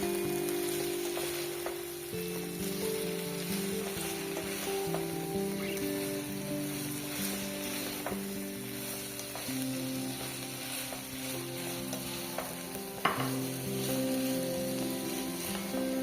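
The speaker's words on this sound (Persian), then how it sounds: "بادمجونای سرخ شده رو اضافه کنیم و مواد رو با هم یه تفت کوچیک بدیم" Chicken, bell pepper and fried eggplant sizzle steadily in a pan, a continuous crackling fry with occasional stirring clatter and one sharp knock near the end.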